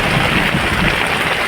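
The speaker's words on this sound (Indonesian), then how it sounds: "Malam ini kami diguyur hujan nih. Hujannya cukup lebat sekali" Heavy rain pours at night in a Kalimantan forest, a dense, constant hiss of water falling on leaves and surfaces, loud and close with no break.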